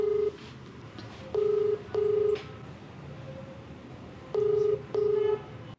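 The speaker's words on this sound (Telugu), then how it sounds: "ఒకసారి కాల్ చేస్తాను." A telephone call rings out on the line: two pairs of steady double ring tones, loud and clean, with a quiet gap between the pairs and no voices.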